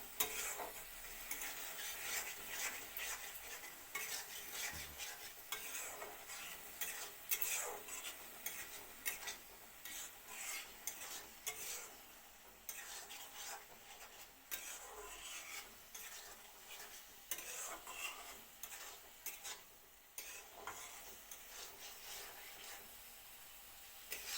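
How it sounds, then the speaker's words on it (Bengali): Tomato gravy with boal fish is gently stirred in a pan, producing continuous soft scraping and wet stirring over a low sizzle, faint and close, with no voices. "এবার হালকা করে নাড়াচাড়া করবো যাতে টুমুটুটা না গলে যায়"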